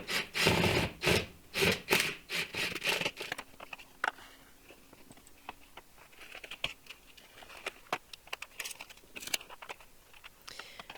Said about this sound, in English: I'm screwing 3 clips onto the ceiling, securing the track to it, or snapping it into place